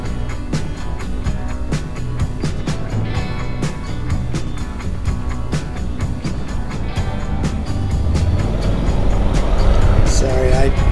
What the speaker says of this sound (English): I just can't sit here in this traffic much longer